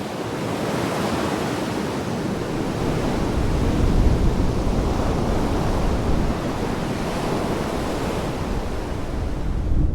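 Ocean water surging and crashing over rocks on the Galapagos coast, a loud continuous roaring wash of surf with gentle swells in intensity, no voices.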